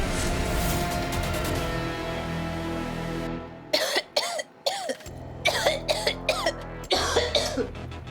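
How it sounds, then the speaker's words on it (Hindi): A person coughs in a string of short, harsh bursts, close and fairly loud, after a stretch of music in a TV drama scene. "अब खांस क्यों रहे हो?"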